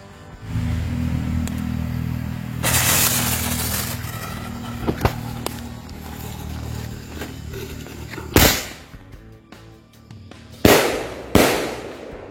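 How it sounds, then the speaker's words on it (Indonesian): A series of ball-launcher firework shots: a long hissing, crackling burst, then several sharp, loud bangs, with a low engine-like drone underneath early on. "Selanjutnya kita nyalain mercon bola launcher teman-teman."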